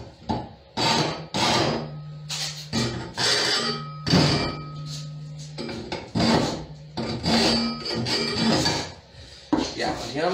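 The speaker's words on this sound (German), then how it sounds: "Rest kommt nachher mit der Feile." Hand file rasping on metal fittings clamped in a workshop, repeated bursts of scraping strokes with knocks and metallic clinks between them, close and loud, with no talking.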